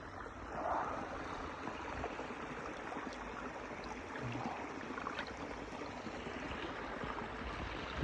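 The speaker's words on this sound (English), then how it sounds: "Beautiful sound of water." Water flows steadily at Furnace Creek in Death Valley, a continuous soft rushing and trickling hiss that stays even throughout with no voices.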